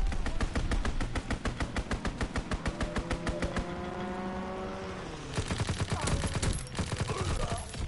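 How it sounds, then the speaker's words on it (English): Rapid automatic gunfire from a fighter aircraft strafing run in the World War II shooter Call of Duty WW2, loud bursts of rattling shots broken by a brief lull with a droning engine before the firing resumes. "Call for a strafing run."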